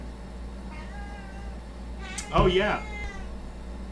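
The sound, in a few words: cat meowing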